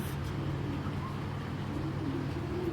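Racing pigeons, including a year-old hen, coo softly and repeatedly over a steady low background hum, with no voices present.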